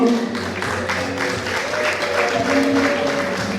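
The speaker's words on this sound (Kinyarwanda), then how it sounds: "Amashyi n'impundu." A crowd claps continuously at a wedding-style celebration staged by students, loud, dense applause with tonal voices, likely ululation, rising through it.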